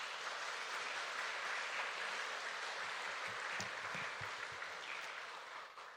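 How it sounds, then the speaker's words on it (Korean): A church congregation applauds steadily to welcome a pastor to the front at an Easter union worship service, a dense, even roar of many hands that holds for several seconds and then starts to fade. "앞으로 나오실 때 우리 박수로 환영해 주셨으면 감사하겠습니다."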